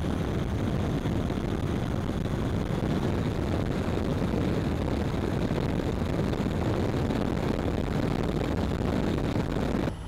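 A Harley-Davidson Road Glide Special 114 motorcycle rides at speed on wider roads with sweeping bends. It sounds like a constant loud roar of engine and wind rush that stays steady throughout, with no speech.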